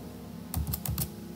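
Quick bursts of computer keyboard typing during a code.org coding lesson, a short cluster of close, crisp key clicks arriving in uneven taps against a quiet room background.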